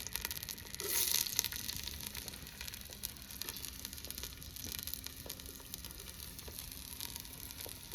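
Garlic, curry leaves and onion fry in a pan over a wood-fired chulha, a steady low sizzle and crackle throughout, with a brief louder burst near the start as they hit the oil.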